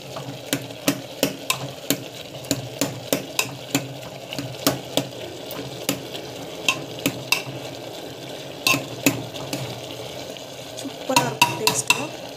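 A spoon stirs a coconut dish cooking in a pan, tapping and scraping the metal in a steady, close rhythm over a soft sizzle. The strokes come quicker and bunch together near the end.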